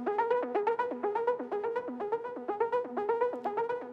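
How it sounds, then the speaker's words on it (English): A synth arpeggio cycles quickly through a repeating pattern of plucky notes in a steady rhythm, with a soft echoing tail, played alone without voices. "Now we have two interesting arpeggiator sounds over here."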